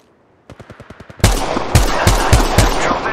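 Enemy squad gunfire in Apex Legends Mobile: a quick run of evenly spaced automatic shots, then louder, heavier bursts with distinct booming reports, close and loud.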